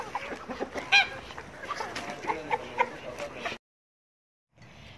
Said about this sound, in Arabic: ما نحطها للطيور بقى تاكل منها بقى